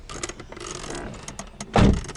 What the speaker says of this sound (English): I probably have to close this door.